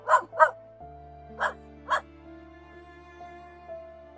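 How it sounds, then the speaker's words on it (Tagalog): A dog barks outdoors at a middle distance in a Filipino setting, two quick pairs of sharp barks over a steady tonal hum. "wala naman tao pero may tumatahol na may kalaban dito."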